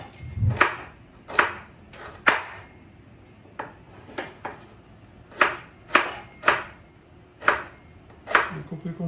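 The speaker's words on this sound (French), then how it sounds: "on va commencer à couper notre oignon" A knife chops an onion into small pieces on a board, with about a dozen crisp, close knocks at an uneven rhythm. Each knock is followed by a short gap and there is no talking.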